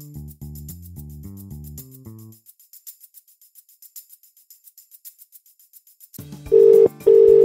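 An iPad places a phone call: a few short tones step in sequence, then a brief hush, then a steady electronic ringback tone sounds twice in clear, loud bursts.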